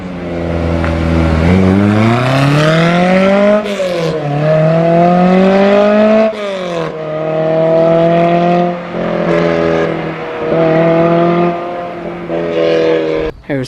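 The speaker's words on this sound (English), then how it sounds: "Here's the debumpered Austin Healey 3000, 3 litre straight 6 engine, lovely sound from outside pipes as well." A debumpered Austin Healey 3000 with its 3-litre straight-six engine roars loudly and close through outside exhaust pipes, revving up and down repeatedly in rising and falling sweeps at a classic car show road run.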